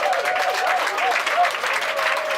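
A church congregation claps and cheers during a sermon, dense continuous applause filling the space, with voices calling out over it.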